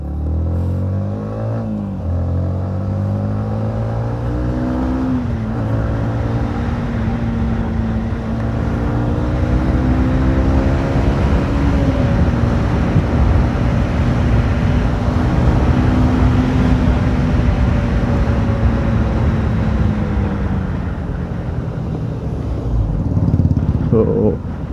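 A 2022 Yamaha MT-15 Version 2 motorcycle accelerating hard on a main road, its engine note climbing repeatedly through gear changes in loud rising sweeps that dominate throughout, with a rider's voice talking over it.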